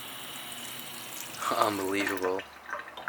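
Water runs from a tap in an abandoned Belgian café, a faint steady hiss and splash under a man's exclaimed word.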